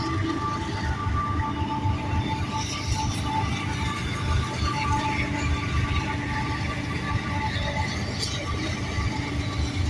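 A train rolls past nearby, giving a steady, broad rumble with rail and wheel noise that stays loud through the whole stretch, with no clear voices over it.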